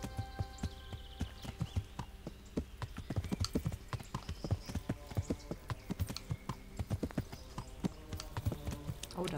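Steady hoofbeats of a horse in Kingdom Come: Deliverance clip-clop in a quick walking rhythm throughout, close and distinct, with faint background game sounds and no talking.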